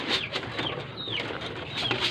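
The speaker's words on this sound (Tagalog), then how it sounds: "mga kalapati" Pigeons coo and call close by, with several short warbling notes scattered across a soft background of flapping and movement.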